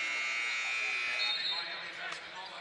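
A basketball shot clock buzzer sounds during a college game between Ball State and Miami (Ohio), a sustained electronic tone over arena crowd noise while a commentator talks.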